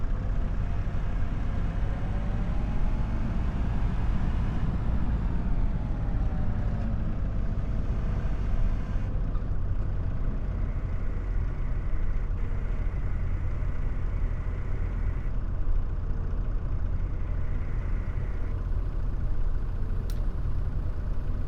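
A tractor engine from a roleplay video game runs in a steady mid-pitched drone throughout. A brief pitch sweep rises and falls near the start.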